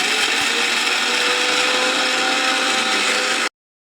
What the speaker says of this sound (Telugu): చిన్న చిన్న ముక్కలుగా కట్ చేసుకున్న పీసెస్ అన్నీ మిక్సీ జార్‌లో వేసుకొని ముక్కలుగా లేకుండా మెత్తగా గ్రైండ్ చేసేసుకోవాలి